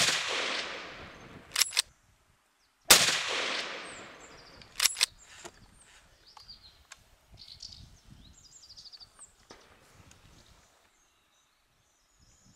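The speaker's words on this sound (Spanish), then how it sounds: "Primer disparo trasero y por encima del zorro, y un segundo intento errado por escasos centímetros." Two sharp shotgun blasts ring out a few seconds apart during a driven fox hunt in Mediterranean scrubland at Encinasola, each loud crack followed by a fading echo, then quieter rustling and faint birdsong.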